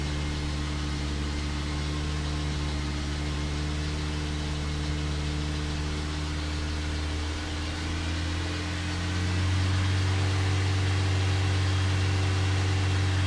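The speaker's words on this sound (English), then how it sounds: "I'm gradually increasing RPMs." Car engine slowly climbing in revs while being tuned for acceleration enrichment, a steady mid-pitched drone with strong low harmonics that rises and firms up toward the end, heard alone and close.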